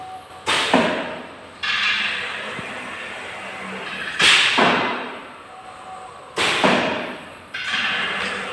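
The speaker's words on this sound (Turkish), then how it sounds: "Bıçaklar otomatik olarak aşağı iniyor. Şu an sadece ebatlama kesim." An automatic fabric cutting machine drops its blades for sizing cuts, each descent a sharp hiss and thump followed by a fading whoosh, repeating at intervals at moderate loudness.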